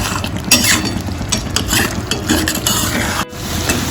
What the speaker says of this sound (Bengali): এবারে ভালো করে মশলাটা কষাতে থাকবো।